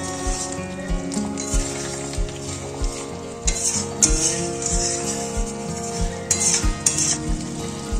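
Prawn curry with garam masala powder and slit green chillies sizzles in a pan, stirred with a utensil that scrapes and knocks against the pan in a regular rhythm over a steady background hum.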